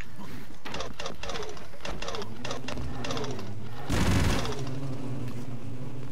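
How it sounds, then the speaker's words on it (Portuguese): Rapid machine-gun fire from the Broforce game, a fast rattling burst of repeated shots across the first few seconds, then a louder blast, with game music and effects continuing underneath. "Essa metranca aqui é de responsa"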